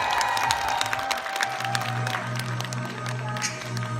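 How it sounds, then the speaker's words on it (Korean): Applause and crowd noise from a kindergarten audience at a children's performance, a steady wash of clapping with scattered voices throughout. "이럴 때 박수 주시는 겁니다"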